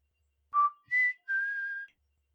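A man whistles a short three-note signal from below a window, the notes rising then holding a long steady tone, clear and alone with no talk.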